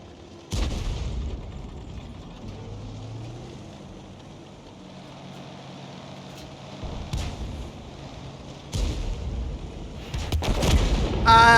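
Tank cannon shots in an online tank battle game: several loud, sharp booms ring out at intervals, each with a rumbling tail, over steady engine rumble and battlefield noise.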